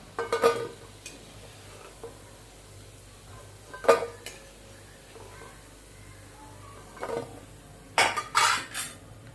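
Fried cabbage manchurian balls lifted out of a pan of hot oil, with a few scattered metal clinks and scrapes of a utensil against the pan, separated by quiet stretches with no talk.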